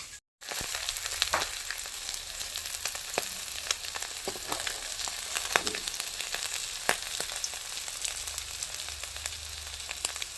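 Bata fish frying in a pan gives a loud, close, continuous crackling sizzle for the whole clip, with scattered sharp pops and spatters and no talking.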